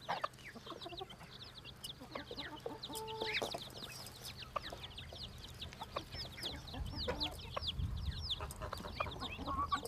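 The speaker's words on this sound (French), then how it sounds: "Celle-ci est une poule naine dont les poussins ont un duvet tacheté." A bantam hen with spotted-down chicks in a farmyard, soft repeated clucks under a constant stream of high chick peeping, with a brief louder rustle near the end; no talking.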